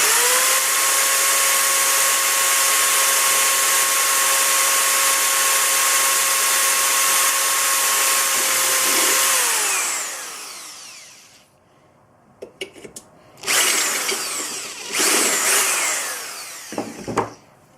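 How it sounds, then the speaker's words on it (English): A power drill whirs steadily for several seconds drilling a drain hole in a corner, winds down and stops, followed by scraping and handling clatter. "So I'm just going to drill this hole in the corner."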